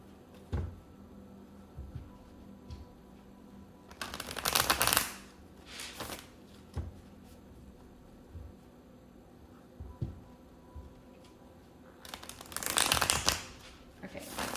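Tarot cards being shuffled in bursts, close and crisp riffling flurries separated by quieter pauses with light taps and handling sounds.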